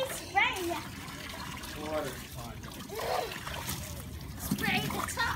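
Water sprays and splashes in irregular bursts of spatter and trickle, close by, while excited children talk and shout over it.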